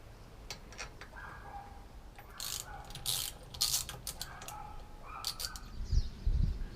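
A ratchet clicks in short bursts as bolts are tightened on a Ford 9 inch pinion support, fairly quiet, with a few louder metallic knocks near the end.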